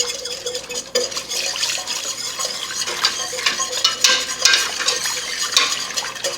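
A whisk beats milk into a cream sauce for mac and cheese, a continuous close rhythmic scraping and swishing against the pot with faint bubbling underneath, no talking.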